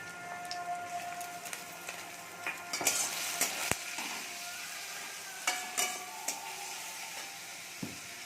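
Prawns and onions sizzle steadily in a hot pan, with scattered scrapes and clatters of a utensil stirring.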